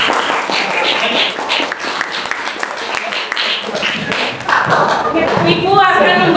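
Classroom applause for a student group, a dense burst of many hands clapping at close range that runs steadily throughout, with voices mixed in beneath.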